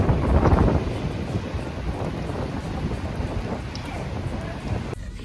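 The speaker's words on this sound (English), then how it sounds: "It is windy out here." Strong wind buffets the microphone outdoors, a loud roaring gust at the start easing into a steady blustery rush.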